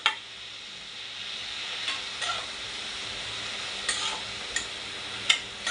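Onion and drumstick leaves being stirred in a pan, a quiet steady hiss with a few soft scraping strokes of the spoon at intervals, no voices.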